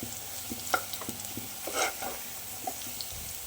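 Onions and potatoes fry in a pan of curry with turmeric and chili powder, giving a soft, steady sizzle with a few light stirring clicks and scrapes close by. There is no talking.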